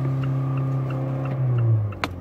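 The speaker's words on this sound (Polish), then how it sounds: "Dodaj jeszcze troszeczkę gazu." A car engine held at high revs during an overrev downshift test, a loud steady buzzing drone with strong harmonics that climbs briefly in pitch before a sharp click and a drop.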